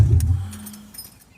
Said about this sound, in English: You can see that the car is running, right? It's working just fine.